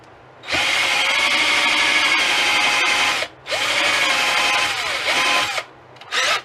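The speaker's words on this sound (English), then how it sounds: "just like I take this cordless drill here" A cordless drill bores a hole for an antenna mount, whining loudly in three bursts: two long runs and a short final spurt, each with brief pauses between.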